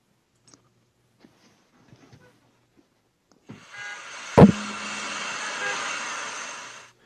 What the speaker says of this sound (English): There's a car out there. It just drove up.